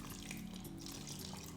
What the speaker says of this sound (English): So I'm going to add in just a little more water